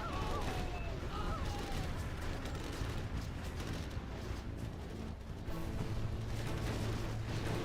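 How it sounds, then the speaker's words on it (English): Carpet bombing explosions in C&C Generals Zero Hour, a steady rumbling wash of distant blasts and low booms running throughout, with a voice talking over them. "Carpet Bomb coming in from Stas"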